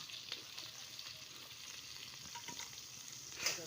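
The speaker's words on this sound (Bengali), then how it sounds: "পেঁয়াজ কুচিটা একটু লাড়ছি" Chopped onion frying in a pan and being stirred: a soft, low-level sizzle continues throughout with faint scraping stirs and a slightly louder clatter near the end.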